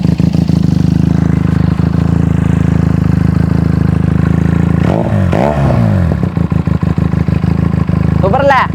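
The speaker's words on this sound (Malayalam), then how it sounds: "ഈ ഒരു ബൈക്കിൻ്റെ ഈ ഒരു സൗണ്ട്" A Benelli TNT300 motorcycle engine idling close up with an even, throbbing hum, while someone talks briefly over it midway.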